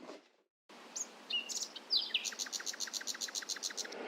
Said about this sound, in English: You waiting for the birds to come?